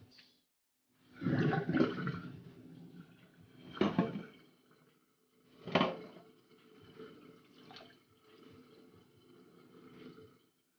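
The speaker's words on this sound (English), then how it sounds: "Gonna let the water out." Water draining from a kitchen sink after fish has been rinsed, heard as several separate gurgling, rushing bursts with gaps between them, fairly close, then fading into smaller trickling sounds.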